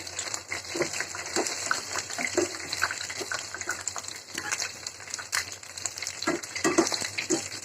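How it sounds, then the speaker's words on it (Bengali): About two dozen chicken wings frying in hot oil fill the clip with dense, crackling sizzle and scattered pops, close and continuous, with occasional stirring clatter. "তো এইভাবে সবগুলি ভেজে দেবো। উইংস অনেকগুলি, এখানে প্রায় 24টা আছে।"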